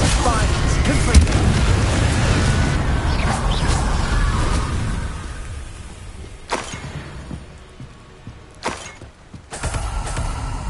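Spell blasts from Hogwarts Legacy gameplay, including the Confringo fire spell, crack and boom in dense, overlapping bursts with whooshing tails, thinning into a few sharp hits near the end.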